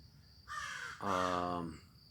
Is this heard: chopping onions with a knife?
no